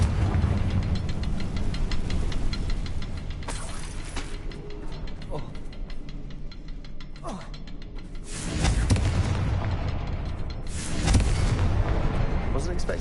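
In the Hogwarts Legacy video game, a Confringo blasting spell goes off as booming explosions over a dense bed of clanking mechanical game sound. The blasts land loud and close, with two heavier bursts near the end.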